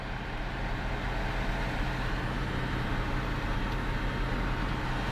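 A portable air conditioner powered through a 12-volt 4000 W inverter runs with a steady low motor rumble and airflow roar, constant and close, no pauses.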